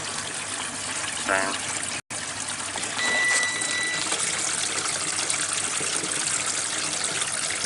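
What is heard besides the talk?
water draining and leaking from washing machine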